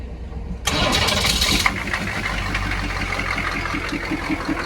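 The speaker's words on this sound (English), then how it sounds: "Let's see if she cranks." A car engine cranks briefly and catches, then settles into a rough, uneven idle right after an oil change in a garage in Japan, loud and close with no talk.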